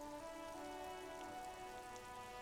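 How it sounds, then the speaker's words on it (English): Rain falls and drips in the video game Disco Elysium as a soft, steady patter, quiet and even throughout, layered over a sustained tonal hum. "Rain drips from the eaves and floods the gutters,"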